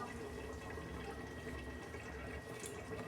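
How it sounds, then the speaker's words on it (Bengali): Cooking oil pours into a hot wok (kadai) as a steady, faint liquid trickle that lasts about three seconds and is heard alone. "কড়া বসিয়েছি, গরম হয়ে গেছে, আমি তেল দিচ্ছি"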